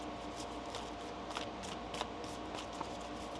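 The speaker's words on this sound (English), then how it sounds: "One more shuffle." Tarot cards being shuffled by hand produce soft, quiet riffling and papery ticks that come in a steady, close patter with no voices.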